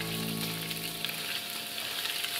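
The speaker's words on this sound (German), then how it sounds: "Die Hähnchenteile in reichlich Olivenöl und Knoblauch anbraten." Chicken pieces fry with garlic in plenty of olive oil, giving a steady, close, crackling sizzle over a low tonal hum that drops away midway.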